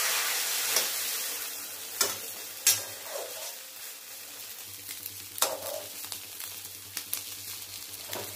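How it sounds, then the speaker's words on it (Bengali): Eggs frying in oil in a pan for an omelette curry, a steady close sizzle broken by several sharp scrapes and clicks of a spatula turning them. "না, এবার ডিমগুলো আগে ভেজে নিই।"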